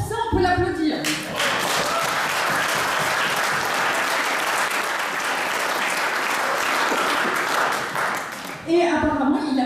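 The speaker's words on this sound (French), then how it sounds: "rien que pour ça, on peut l'applaudir" A seated audience at a French-language talk on finance breaks into sustained applause that holds evenly for several seconds, with a speaking voice just before it starts and again as it fades.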